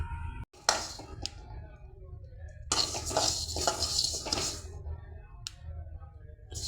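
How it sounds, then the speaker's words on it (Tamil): Sesame seeds dry-roasting in a pan, with scattered crackles and pops mixed with metallic stirring scrapes and utensil clinks, fairly close and uneven in rhythm. "எள்ளு பார்த்திங்கன்னா நல்லா பொரியுது."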